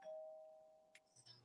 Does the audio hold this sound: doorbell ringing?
yes